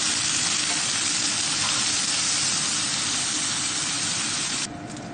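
Oysters sizzling in a pan while adobong talaba cooks, a loud, dense, steady frying hiss that eases slightly at the very end.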